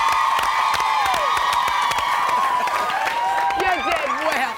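A studio audience at a country-versus-city dating show claps steadily and cheers with whoops and shouts, the crisp handclaps sharp and close, while a host speaks over the noise.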